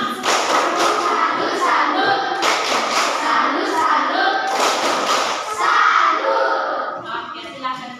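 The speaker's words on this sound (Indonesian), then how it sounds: "Tepuk salut untuk kita semua." An audience in a classroom-style session claps a patterned 'tepuk salut' routine, with loud bursts of clapping in rhythmic groups mixed with crowd noise, children's voices and thumps.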